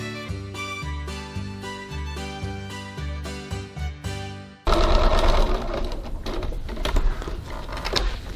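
A sewing machine stitches lines on a Genevieve bag pattern in bursts of rapid, even mechanical ticking, then gives way to a denser, rougher whirring and clattering texture.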